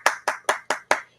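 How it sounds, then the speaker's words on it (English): A single person claps their hands five times in a quick, even rhythm, each clap sharp, close and crisp, with nothing else heard. "I'll do my own hand clap."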